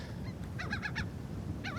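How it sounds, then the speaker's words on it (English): A gull gives a short burst of harsh, honking calls, four quick notes close together followed by one more call a moment later, heard over steady low background rumble near the water. "That gull was not laughing at you."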